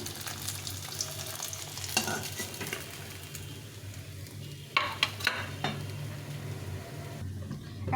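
Pieces of fish frying in oil in a pan for a spicy Bengali fish curry, a steady sizzle throughout with occasional clinks and scrapes of a spatula against the pan.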